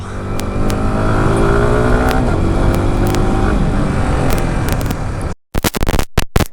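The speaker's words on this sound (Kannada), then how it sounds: "ಗಾಡಿದು ಸೌಂಡ್ ಕೇಳಿಸಿಲ್ಲ, ಎಕ್ಸಾಸ್ಟ್ ಸೌಂಡು" A Yamaha R15 V4 motorcycle revving loudly nearby, its exhaust a sustained throaty roar with shifting pitch, ending in a brief gap and a few sharp, choppy blips.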